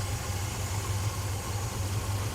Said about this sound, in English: Oh, here we go. Idling down.